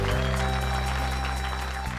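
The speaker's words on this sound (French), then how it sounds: "Applaudissez-le." An audience at an essay competition applauds, with dense, continuous clapping that stays loud and steady throughout, with no voices on top.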